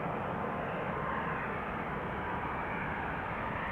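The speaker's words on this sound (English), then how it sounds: "Also have another airplane that has taken off, flying to the north. Might interfere a little with the sound." An airliner takes off from Amsterdam Schiphol Airport, heard as a steady, distant broadband roar of jet engines without talk.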